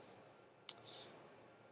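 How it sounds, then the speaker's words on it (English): A single crisp computer mouse click, quiet and close, as the Solve button is pressed in a spreadsheet solver, followed by faint background hiss. "So now I click Solve."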